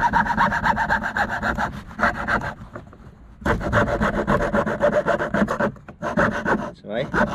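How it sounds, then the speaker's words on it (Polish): A hand saw cuts wood in steady, rasping back-and-forth strokes, close and loud, with a short pause in the middle before sawing resumes. "Dobrze, znowu przepiłowałem."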